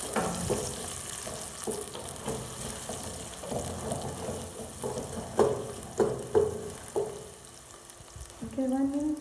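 Onion frying in a pan on a stovetop, a steady sizzle with scattered stirring scrapes and clinks, ending in a brief rising squeal; no one speaks.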